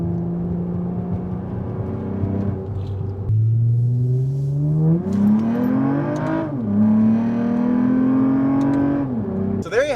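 A bagged Lexus ES 350 accelerates hard in first gear from inside the cabin, the engine rising in pitch through short gears with a brief shift break, while a person talks over it.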